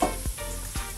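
Capsicum sizzles in a pan as it is fried with other vegetables, a steady crackling hiss broken by two soft stirring scrapes, close by with no talking.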